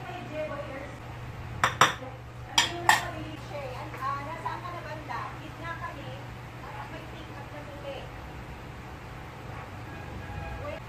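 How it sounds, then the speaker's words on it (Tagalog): A spoon clinks and scrapes against a bowl as a sisig mixture with calamansi juice, onion and labuyo chili is stirred. A few sharp knocks come near the start, then softer scraping continues while people talk nearby. "Tsaka may labuyo na yan, hinalo ko na lang"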